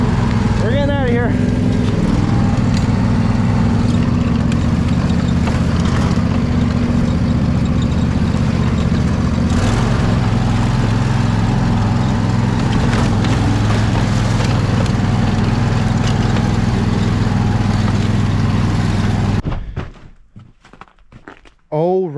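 A Husqvarna mower engine drones steadily and close by while mowing in snow, with a few thumps along the way, then shuts off just before the end.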